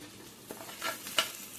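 Broccoli and other vegetables tumble into a frying pan and get stirred, giving soft scraping and brief clatters over a faint sizzle, quiet and close.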